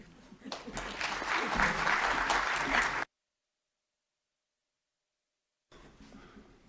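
A crowd applauds after a speech to graduates, a dense burst of clapping lasting about three seconds before cutting to silence, then a quieter stretch of sound at the end.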